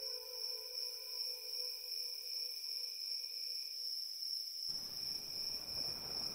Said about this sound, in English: She is troubled by a strange buzz she started hearing in her ears, as if there were crickets chirping in her head.